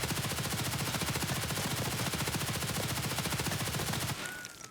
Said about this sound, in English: move over here, we'll shoot at this wall back here